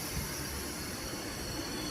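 An Asansol–Jhajha MEMU special local train runs with a steady, loud rolling roar from inside the coach, with faint wheel squeal and rattling throughout and no talk.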